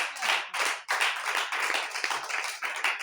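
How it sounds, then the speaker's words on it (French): A church congregation clapping for the Lord, dense, lively rhythmic applause filling the room, close and loud, with no talk over it. "Applaudis pour le Seigneur."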